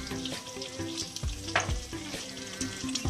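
Spaghetti drops into a pan of sizzling garlic and olive oil, a steady close frying hiss broken by brief clatters and stirring knocks.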